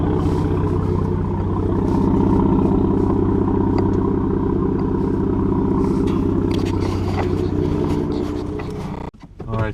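A 2017 Ford Raptor with a CORSA Xtreme exhaust idles warm with a loud, steady low burble and throb heard up close, cutting off abruptly near the end.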